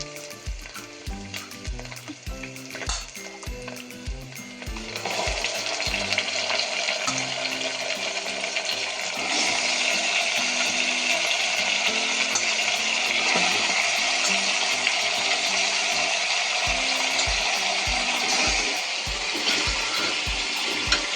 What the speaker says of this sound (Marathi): चांगलं तेलात छान असं परतून घेऊ